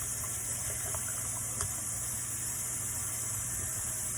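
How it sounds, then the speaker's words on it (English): Warm water runs steadily from a tap as an implement is rinsed during disinfection, giving a continuous, faint hiss over a low background hum. "Then we're going to rinse this with warm running water."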